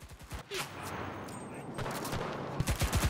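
Grease gun submachine-gun bursts in a World War II shooter, short rapid volleys of close gunfire at the start and end with scattered distant shots and battlefield noise between them.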